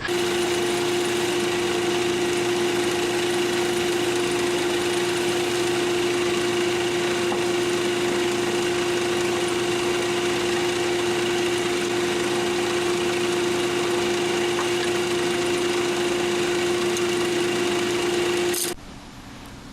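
A lathe spinning an acrylic pen blank while a round nose scraper cuts it, giving a steady motor hum with a constant tonal whine and a faint scraping texture that stops abruptly near the end.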